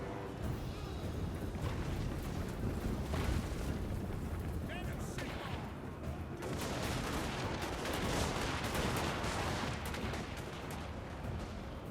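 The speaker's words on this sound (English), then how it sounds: "Flanking armor penetrating fire from the muskets." Massed musket volleys crackling across a Total War: Warhammer battlefield, a continuous rolling roar of shots and booms at moderate distance, mixed with battle noise and occasional voices.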